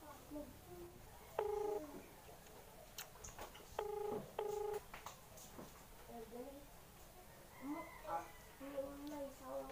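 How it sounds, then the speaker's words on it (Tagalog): A phone dials a call with short clusters of touch-tone beeps, a single tone then two quick pairs, followed by faint tones while a person talks softly in the background. "So, tatawagan natin siya guys."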